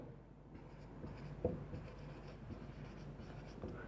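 Pen writing by hand on a surface during a grammar lesson, a faint, close scratching with a few small taps, quiet and without talk.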